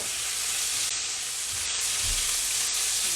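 Lamb chops fry in a pan with a steady, close sizzle and crackle, spitting oil across the whole stretch with a few low thumps and no voices.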